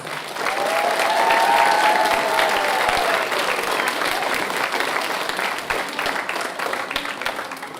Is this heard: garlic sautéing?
no